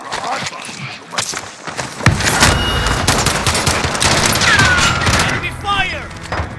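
Dense automatic gunfire and shots crackle in Call of Duty Warzone on Rebirth Island, a fusillade of rapid bursts with booms and whizzing streaks, loud and close, while game voices shout over the battle.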